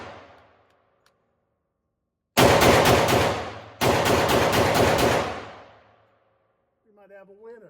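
Two long bursts of rapid automatic fire from a 10mm firearm, each a fast rattling string of loud, close shots, separated by a brief pause, with quiet before and a few faint tones afterward.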